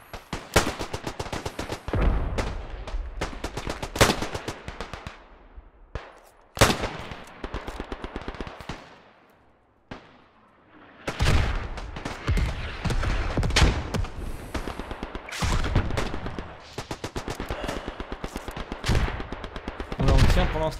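Minimi light machine gun firing in the video game Beyond The Wire: loud, sustained automatic bursts and scattered shots, with a brief lull around the middle before heavy rapid fire resumes, busy battlefield gunfire throughout.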